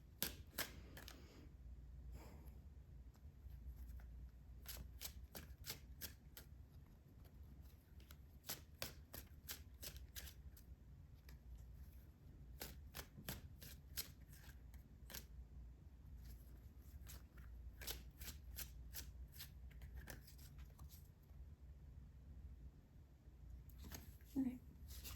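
Tarot cards shuffled and dealt onto a table, a series of quick crisp riffling bursts and soft slaps repeating throughout, fairly faint and close, over a low background hum.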